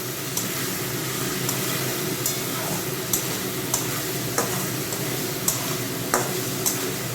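Spices sauté in oil in a pan with a continuous sizzle, broken by sharp, regular clicks of a utensil stirring against the metal.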